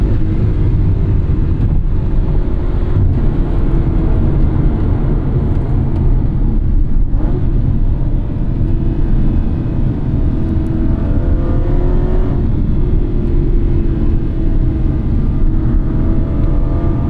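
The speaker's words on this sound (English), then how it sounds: "Beautiful, immediate throttle response, and in sport mode, it actually helps to be a little bit more responsive" Engine of a 2014 Aston Martin V8 Vantage V8 roaring loud and close as a dense, steady drone with only slight swells in pitch, no voices over it.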